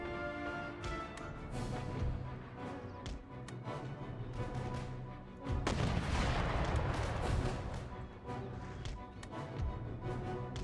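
Musket volleys and artillery fire crackle and boom across an Empire Total War battlefield, sharp repeated shots with a louder rolling barrage midway, over a constant din of combat.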